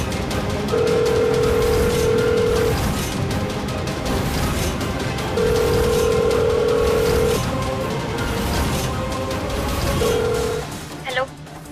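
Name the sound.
telephone dial tone while making a phone call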